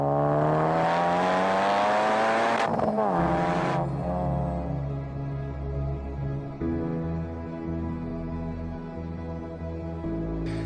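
A Honda Civic Type R engine revs hard, its pitch sweeping upward before abrupt gear changes, then settling into a lower, steadier drone as the car cruises, heard from inside the cabin.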